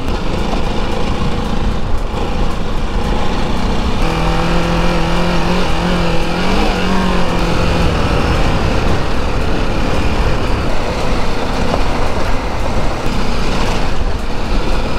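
A Ducati DesertX adventure motorcycle rides along a trail, its engine droning continuously with shifting pitch and some revving, loud and close alongside wind and rough ground noise.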